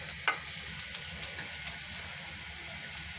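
A pot of potato and fish curry simmers with bitter gourd, giving a soft continuous sizzle and bubbling hiss with a few light clicks of stirring.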